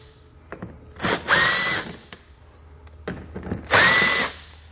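Power drill backing out 5.5mm screws along the edge of a 2015 Ford Explorer front wheel well: two separate whirring bursts, each rising in pitch, close and loud, with quiet pauses between them.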